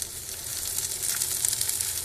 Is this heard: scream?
no